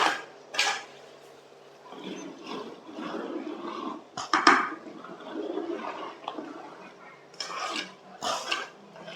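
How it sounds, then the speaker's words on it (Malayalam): A ladle slowly stirs salted vattayappam batter in a pot, giving soft wet swishes and scrapes with occasional light metallic clinks in uneven bursts, close by and with no talking. "ഒരു തവി കൊണ്ട് നമ്മൾ ഒന്ന് പതുക്കെ ഇങ്ങനെ ഇളക്കി യോജിപ്പിക്കുകയാണ്."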